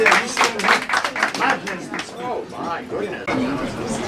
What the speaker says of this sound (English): Please, a round of applause, please, for Bill Badon.